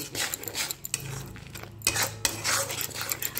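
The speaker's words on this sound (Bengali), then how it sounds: "ভাজা মশলাটা ভালো করে দিয়ে আর একটুকু নাড়িয়ে চাড়িয়ে কষে নেব" A spoon scrapes and clinks against a pan while fried spice paste is stirred and cooked down for a paneer dish, in close, rhythmic metallic strokes with brief pauses.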